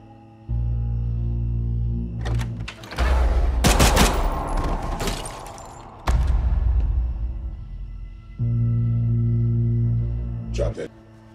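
Gunfire in an action movie scene, loud bursts of shots crashing in repeatedly over a dense film soundtrack, with several sharp cracks standing out amid people talking.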